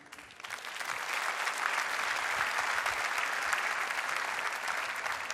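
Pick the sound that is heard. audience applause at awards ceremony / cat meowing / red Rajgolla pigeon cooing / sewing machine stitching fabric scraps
audience applause at awards ceremony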